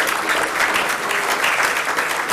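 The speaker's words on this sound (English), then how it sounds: "Let's welcome her with a huge round of applause" An audience at an annual general meeting of a bankers' association breaks into a dense, steady round of clapping to welcome a guest, loud and continuous throughout.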